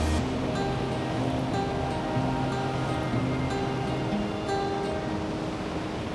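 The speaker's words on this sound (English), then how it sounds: "At its peak flow rate, there are about 270 million liters of water that go over the falls every minute." Niagara Falls at peak flow, a massive volume of water pouring over the falls, heard as a continuous dense roar of rushing water with no break or rhythm.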